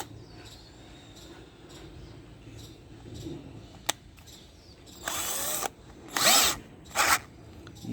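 A Build Skill cordless drill screwdriver whirs in three short high-pitched bursts after a quiet stretch of faint handling clicks and one sharp tap, each run loud and close.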